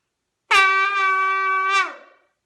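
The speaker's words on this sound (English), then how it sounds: "So here are those sounds of the shofar." Single long tekiah blast on a shofar, a bright brassy ram's-horn tone that sustains evenly for over a second and then trails off into silence.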